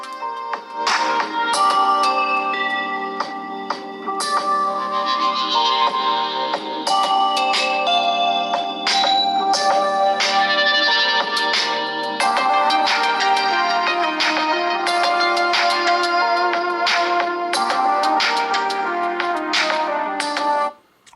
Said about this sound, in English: The music sounds something like this.